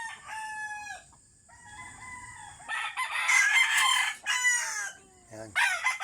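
A rooster crows loudly and close by, one long harmonic crow followed by further crowing calls, with faint background rustle between them and no talk.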